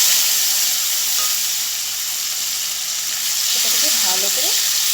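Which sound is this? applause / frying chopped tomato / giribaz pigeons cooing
frying chopped tomato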